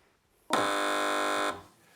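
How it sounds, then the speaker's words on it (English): A quiz show buzzer on a comedy panel game fires once, a loud, steady electronic tone held for about a second and cut off sharply, then a faint tail, with no talk over it. "Fingers on the buzzers, please."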